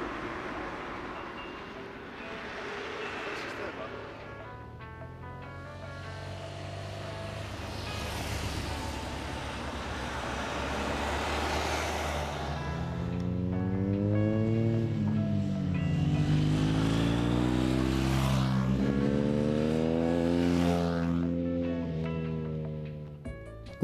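Motorbikes pass along a mountain road in the Dolomites near Corvara, engines rising and falling as they approach and fade, with a louder rev sweeping through the middle and a lighter one later.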